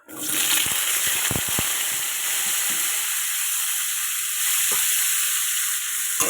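Potatoes dropped into hot white oil and ghee seasoned with panch phoron for a cauliflower-potato curry hiss into a loud, steady sizzle, with a few clattering knocks early on as they land and are stirred.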